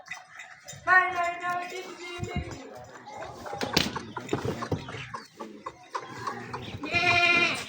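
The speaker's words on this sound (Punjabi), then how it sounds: "ਬੱਕਰੀਆਂ ਆਵਾਜ਼ਾਂ ਲਗਾ ਰਹੀਆਂ" Goats on a village farm bleat loudly in the morning, with a clear call near the start and another near the end, mixed with other farmyard noises and shuffling in between.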